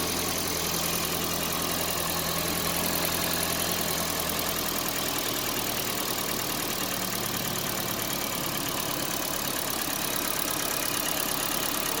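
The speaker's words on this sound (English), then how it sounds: "Let's fire it up." A Ford Figo Aspire fitted with a K&N air filter idles close by, a steady, even engine drone with a low pulsing rumble that holds unchanged throughout, no voices.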